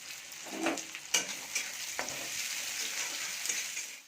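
Onions fry in hot oil with a continuous close sizzle, punctuated by a few scraping stirs and light knocks of a utensil against the pan.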